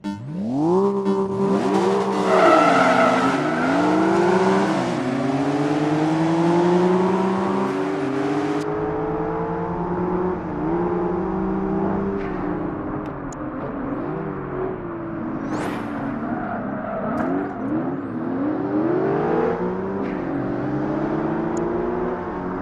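Racing cars in the video game Project Gotham Racing, engines revving and shifting in rising and falling whines, with tyre skids and a whoosh of cars passing, loud and continuous throughout.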